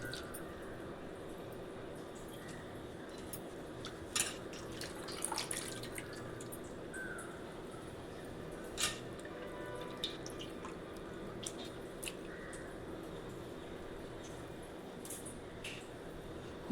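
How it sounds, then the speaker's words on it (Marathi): Washed bitter gourd sits in a sieve to drain, giving faint scattered drips and small wet ticks at irregular intervals over a quiet room background. "आता हे सर्व पाणी काढून चाळणी त्याला नितळायला ठेवते."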